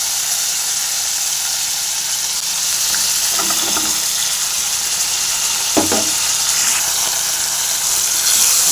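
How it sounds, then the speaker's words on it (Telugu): Tomato and green chilies fry in a pan with a continuous close sizzle, and a couple of scraping stirs come through midway and near the end. "ఇప్పుడు చూస్తున్నారు కదండి, టమాటో ఫ్రై అవుతుంది."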